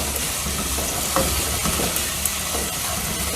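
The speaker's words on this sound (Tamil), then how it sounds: "தக்காளி போட்டு இப்போ வதக்குறோம்." Tomatoes sautéing in a pan for a kadappa gravy, a continuous close sizzle and hiss with occasional spatula scrapes and light knocks, no voices.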